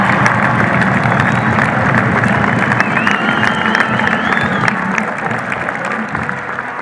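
A large outdoor crowd at an informational assembly in Mexico City's Zócalo breaks into sustained applause and cheering, loud and dense, a broad wash of clapping with scattered shouts and whistles that tapers slightly toward the end.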